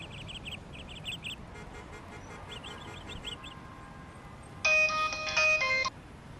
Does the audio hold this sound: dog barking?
no